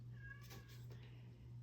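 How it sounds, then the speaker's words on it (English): A house cat meows once around the middle, a short, fairly clear cry over a steady low electrical hum in an indoor room. "You can hear my cat."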